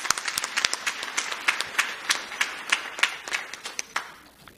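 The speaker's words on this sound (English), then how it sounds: "Let's give a big round of applause." Moderate clapping from a gathered audience at an award reception speech, individual hand claps distinct and fairly close, forming a loose, uneven rhythm that thins out toward the end.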